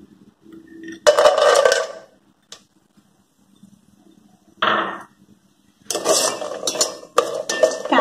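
Cashews and cloves stirred and fried in a pan for coconut milk pulao, with loud bursts of metal spoon scraping and clinking against the pan between quiet pauses, close up with no talk.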